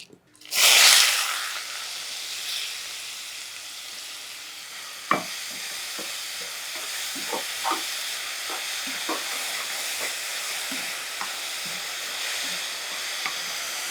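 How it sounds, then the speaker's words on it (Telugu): Sliced onions hit hot oil in a pan for a brinjal and dried prawn curry, a loud burst of sizzling that settles into a steady hiss with scattered spoon clicks and stirring scrapes. "అది ఇప్పుడు ఉల్లిపాయలు వేసుకుందాం"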